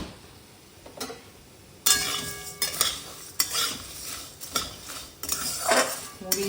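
Puffed rice and peanuts are stirred and fried in a pan at home, a spatula scraping and clinking against the metal in repeated strokes over a light sizzle, close and loud after a quiet start.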